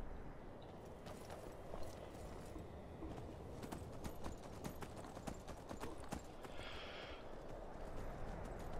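Hooves clip-clop steadily from a horse ridden by two in Skyrim Special Edition, an even ongoing patter over a dense ambient bed, moderately close.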